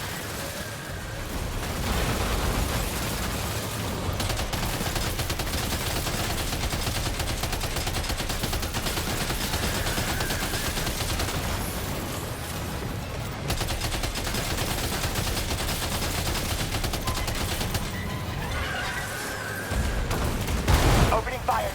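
Sustained gunfire from a Death Stranding 2 firefight rattles on almost without a break for about twenty seconds, loud and dense, with heavier booms near the end. A voice talks over it.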